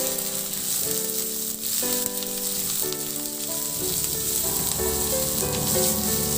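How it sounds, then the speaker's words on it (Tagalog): Onions frying and being stirred in a pan give a continuous, fairly loud sizzle that plays under steady background music, with no voices. "Ilagay ko na rin yung sibuyas. Ihalo lang din hanggang sa mag-translucent o maluto."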